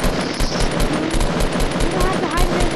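Rapid automatic gunfire in the shooter game Fortnite rattles loud and dense without pause, a close burst of overlapping shots filling the whole moment.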